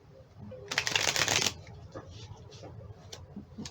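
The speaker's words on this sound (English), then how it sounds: "Pull a few more cards from this deck and then we'll get going." A deck of cards riffles in one quick, crisp shuffle lasting about a second, close up, followed by faint light ticks in a quiet room.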